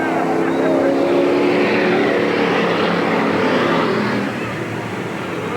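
Race cars roaring around the Eugene Speedway track during a spin-out, a loud continuous engine drone with a commentator's voice over it, easing slightly near the end.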